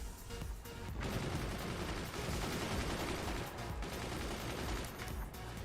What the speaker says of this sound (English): the heavy mortars got returned to sender and blew up all the upper mortars